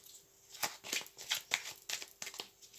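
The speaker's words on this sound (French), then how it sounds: "si ça ne vient pas, on va chercher les dés." Dice being shaken for a fortune-telling reading give off quiet, close clicking and rattling in irregular bursts, with no voice.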